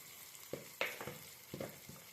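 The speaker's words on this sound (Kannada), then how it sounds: "ಆವಾಗ ಬೇಗ ಫ್ರೈ ಆಗುತ್ತೆ ಆನಿಯನ್ನು" Onions frying in a pan with a sprinkle of salt, a soft steady sizzle broken by a few sharp stirring scrapes and clicks against the pan, close and fairly quiet.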